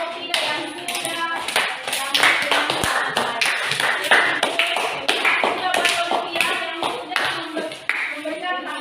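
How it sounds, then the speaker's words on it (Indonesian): A small group in an online class applauds, with uneven, fairly close hand claps and taps continuing steadily throughout, and voices mixed in beneath them. "Berikan aplaus buat kelompok 3 yang sudah"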